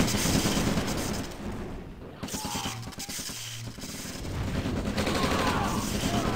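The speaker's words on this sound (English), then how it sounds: "This V2 rocket launcher from Spetznas can find some good marks" A V2 rocket launcher fires in a Red Alert–style real-time strategy battle, with dense, continuous bursts of gunfire and explosions. The barrage runs loud throughout and eases briefly in the middle before building again.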